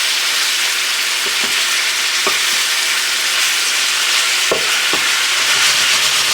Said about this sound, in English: the nice part about using the lard is that it just browns it really nicely